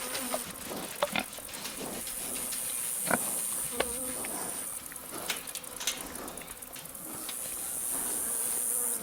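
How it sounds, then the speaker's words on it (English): Honey bees buzzing around a beekeeper in a bee suit during a honey harvest, a close continuous buzz with individual bees flying past, sharp ticks and knocks scattered throughout. "Still got bees all over me."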